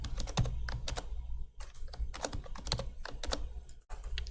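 Steady clicking of keys on a computer keyboard, up close and fairly quiet, in an irregular typing rhythm with brief pauses and no talk.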